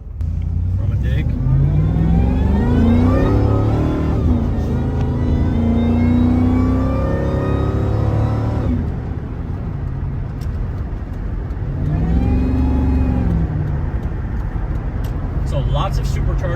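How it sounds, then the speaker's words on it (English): A 2004 Ford SVT Lightning supercharged pickup accelerates hard from a stop through the lower revs, engine note sweeping upward with a rising supercharger whine, a short lift, then another climbing pull, heard from inside the cab. "So lots of supercharger noise, especially down low in those lower RPMs."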